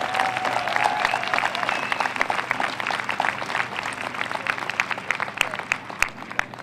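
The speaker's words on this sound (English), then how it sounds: "They deserve a big round of applause." An audience applauds therapy dog teams at a thank-you event in Newtown, with steady, dense clapping that fills the room throughout at a moderate distance, with a faint murmur of crowd voices mixed in.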